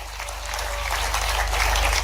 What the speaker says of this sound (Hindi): एक बार जोरदार ताली बजा करके।